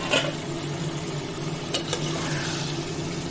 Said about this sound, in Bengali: এটাকে তেলের মধ্যে ভাজা ভাজা বা কষিয়ে নেব